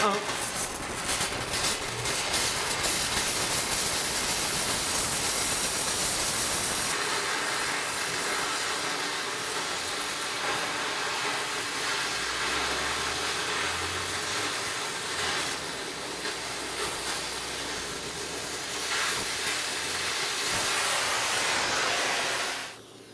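A Multiplaz 3500 plasma torch hisses steadily while heating up, a loud, close, broadband roar that holds almost unbroken throughout, with a person talking over it.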